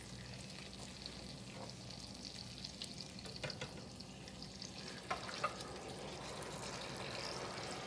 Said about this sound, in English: now what we are going to do is pour our sauce that we created in our other pan directly on top of our pork